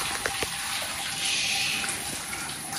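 Water runs steadily from a hose pipe fixed to a tap, a constant close rushing gush used for bathing animals, with no talk over it.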